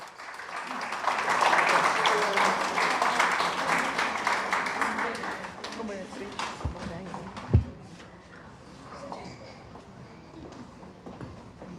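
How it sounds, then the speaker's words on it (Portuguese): Applause breaks out for a national library director at a cultural ceremony, loud clapping building over the first seconds and then thinning into scattered claps, a thump, and quiet room sound with some voices. "com um forte aplauso"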